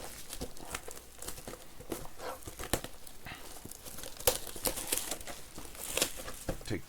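Boxes of 2024 Panini Certified Football trading cards being cut open and unwrapped, a busy run of close crinkling, tearing and cardboard rustling with scattered sharp snaps.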